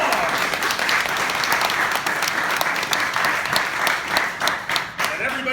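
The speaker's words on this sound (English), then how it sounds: "Listen to the thunderous round of applause." Audience at a magic show applauding as a volunteer is brought on stage, a steady sustained round of clapping with faint crowd murmur, tapering slightly near the close.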